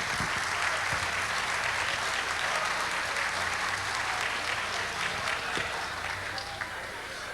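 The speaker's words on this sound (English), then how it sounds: "Please give them a warm round of applause." Warm audience applause for the Miss Chicopee court at a kielbasa festival, sustained dense clapping from a large crowd, steady and loud throughout before easing slightly at the end.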